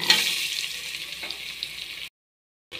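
Chopped onions sizzle steadily in hot oil in a pan for chole masala, after bay leaf, cardamom and cinnamon have gone in. The frying hiss is loud and close and runs continuously, then cuts out abruptly near the end.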